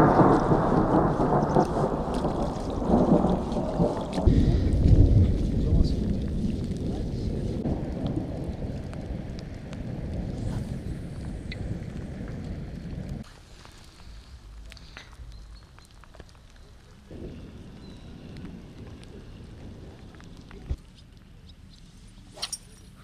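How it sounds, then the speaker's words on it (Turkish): A thunderstorm heard outdoors on a fishing trip: a heavy, rolling rumble of thunder dominates the first half, then fades into softer rain and wind with a few distant cracks. "Yağmur bir şey değil de işte şimşek sıkıntı."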